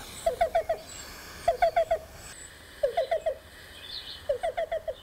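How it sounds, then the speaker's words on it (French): A black-billed cuckoo calls in repeated bursts of four or five quick, evenly spaced notes, with a short pause between each burst. The calls are clear and fairly close over a faint outdoor background, and no one speaks. "C'est un coulicou à bec noir."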